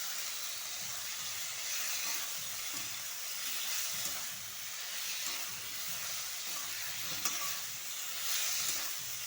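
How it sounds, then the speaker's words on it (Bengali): Ridge gourd stir-frying in a pan, giving a steady sizzle with soft scraping stirs throughout, close and even with no voices. "এবার দেখো সব ঝিঙে ভাজা ভাজা হয়ে গেছে।"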